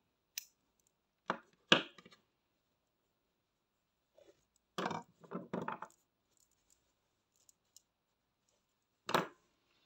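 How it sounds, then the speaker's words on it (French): Scissors snip crochet yarn in a few sharp, close crunches separated by silence, alongside small handling clicks. "on va couper le fil et tirer."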